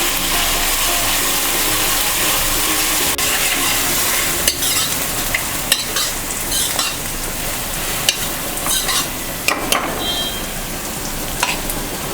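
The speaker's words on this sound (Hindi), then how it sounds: "अब इसको कम से कम 5 से 10 मिनट तक भूनेंगे हम।" Grated onions frying in a pan for Punjabi chole, a loud continuous sizzle with repeated sharp scrapes and knocks of a spoon stirring, growing more frequent in the second half; no speech.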